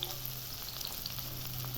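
Chopped onions and green chillies fry with nigella seeds in a pan for a fish-head and ridge gourd curry, a steady close sizzle with light crackle running the whole time, no voices.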